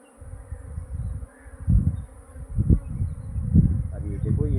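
A honeybee swarm that has just left its hive boxes buzzes outdoors, a dense, rising and falling hum of many bees with some low rumbling and faint voices mixed in.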